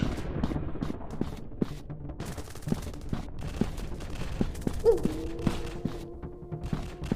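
Gunfire in a 3D first-person shooter game comes in repeated sharp single shots spaced irregularly, along with a brief tonal game effect midway, all fairly quiet.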